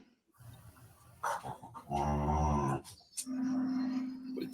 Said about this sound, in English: tell your dog to shut the fuck up, Jackson.